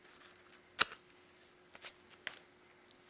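Scissors trim a clump of material in a few crisp snips, one sharp cut standing out, followed by softer scattered clicks against a quiet room hum.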